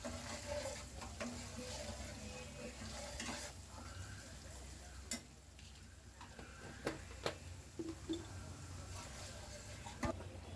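Ginger and garlic fry in hot oil for a Bengali chicken pulao, a steady low sizzle broken by occasional utensil taps and stirring scrapes, close and fairly quiet with no talking.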